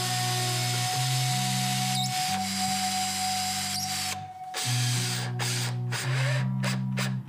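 A power saw whines with steady pitched tones, shifting in pitch as it cuts a groove in a stringed instrument part, with brief breaks and restarts.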